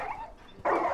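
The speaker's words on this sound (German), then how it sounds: "Boah, ey, diese Hunde, ey." Dogs in the video game Far Cry 5, two short barks heard close, the second louder, with a quieter whining sound between them.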